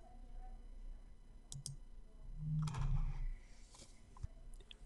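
Quiet, sharp mouse clicks on a computer button, a few isolated taps against a soft background hum.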